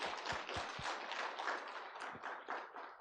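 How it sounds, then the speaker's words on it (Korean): A congregation in a Korean church claps in praise to God during a cell leader seminar, a brief burst of quiet, fairly distant applause with a few distinct sharp claps. "하나님께 영광의 박수 드리겠습니다"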